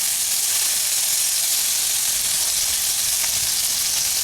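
Okra frying in a pan, a loud continuous close-up sizzle and hiss of hot oil, steady with no breaks or voices.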